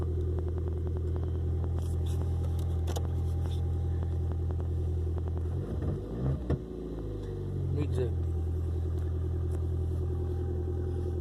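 A Volkswagen car engine idles with a steady low rumble throughout, briefly revving once midway, while someone talks over it.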